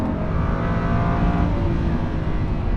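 A Lamborghini Huracan LP 580-2 engine roars steadily at high revs, loud and close, with a rough, throaty drone throughout and no voices.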